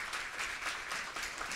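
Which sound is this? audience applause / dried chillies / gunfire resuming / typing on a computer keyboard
audience applause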